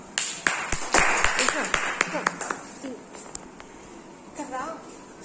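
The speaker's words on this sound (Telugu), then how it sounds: "క్లాప్స్ అమ్మా." Students clap in a classroom, a short burst of several sharp claps that fades over a few seconds while a teacher's voice speaks over and after it.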